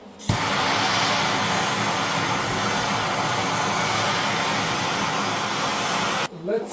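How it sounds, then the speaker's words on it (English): A blowtorch roars steadily while heating aluminium before welding, a loud continuous hissing rush that starts abruptly and cuts off near the end. "I'll also heat up the area with the blowtorch to make sure it's nice and hot before I start welding"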